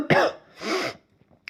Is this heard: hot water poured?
no